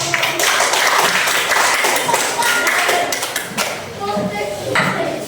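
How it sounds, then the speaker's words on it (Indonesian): A classroom group claps together in a busy, uneven burst of applause, with scattered taps and knocks mixed in and some voices under the clapping. "Berikan tepuk tangan untuk"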